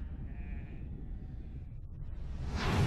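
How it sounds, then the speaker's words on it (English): Sheep bleating, a few wavering calls close by with a low rumbling background, and a swelling whoosh near the end. "The sheep are revolting."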